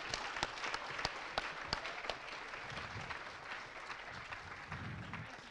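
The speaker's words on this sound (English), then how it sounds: "Big round of applause." Audience applause at a Minecraft convention session, a steady wash of clapping from a large crowd with a few sharper nearby claps early on, continuing evenly for several seconds.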